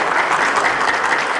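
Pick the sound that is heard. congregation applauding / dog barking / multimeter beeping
congregation applauding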